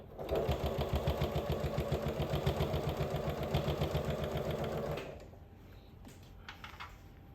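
A sewing machine stitches binding onto a quilted machine cover with a fast, even, rhythmic chatter, close and steady for about five seconds before it stops and only faint room noise is left.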